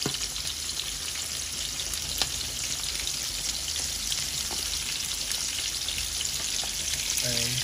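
Shrimp sizzling and frying in hot oil in a pan, a steady dense crackle with scattered sharp pops and a faint stirring clatter near the end, close and continuous with no talking.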